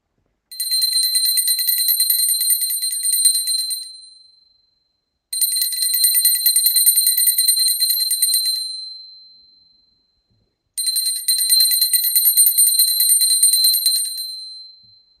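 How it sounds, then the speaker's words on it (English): A bright, high bell rings three times in long sustained trills during a puja ritual, each fading out before a short silence and the next ring. "Now I ring a bell to offer the element of sound."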